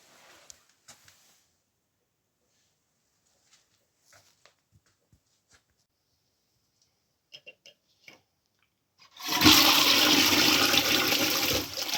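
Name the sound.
toilet being flushed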